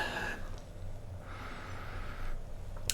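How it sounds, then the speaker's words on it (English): A person sniffs a glass of Big Drop Pine Trail Pale Ale, a low-alcohol beer, with close breathy inhalations through the nose, including one longer draw, and no talking. "So let's have a sniff."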